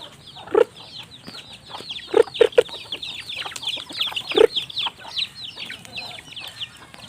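Backyard pet chickens clucking in a series of short, close calls, with a few louder bursts standing out over a faint, steady chorus of small bird chatter.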